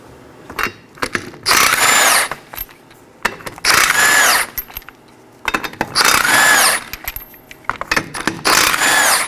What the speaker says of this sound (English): Now we could go on and remove our 5 21mm lug nuts.